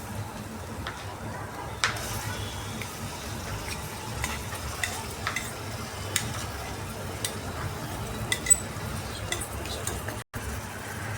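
Onions are stirred in a pan for pav bhaji, giving a soft, low sizzle broken by light scraping ticks from the spoon against the pan, steady and close throughout.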